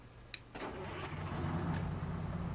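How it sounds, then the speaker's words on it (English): A Detroit diesel truck engine in American Truck Simulator cranks over with a short burst, catches, and settles into a deep, rumbling idle that grows slightly louder and stays steady, heard alone. "Listen to it start up"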